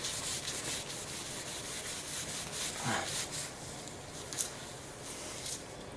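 Steady rubbing and buffing of dried wax on a wooden police baton, a continuous close, moderately quiet friction hiss with slight surges and one brief sharper scrape near the end.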